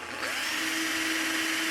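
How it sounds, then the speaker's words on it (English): A power drill fitted with a 5/64 bit bores a small hole in plastic on a solar fence charger's circuit board, giving a steady whir that spins up and holds alone. "It's a 5/64 drill bit. I'm going to drill a little hole"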